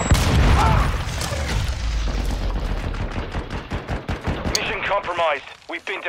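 Rapid video game gunfire bursts in a military shooter, loud and dense at first, then thinning into scattered shots and explosions with a brief chime near the end, while a player's voice talks over the action.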